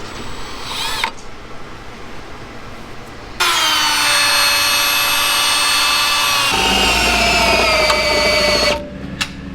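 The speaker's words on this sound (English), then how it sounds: "This drill bit's put in work, man." A power drill whines loudly at high speed for several seconds, its pitch shifting as it bites into a metal rear differential brace for a BMW F chassis, after a brief short burst earlier.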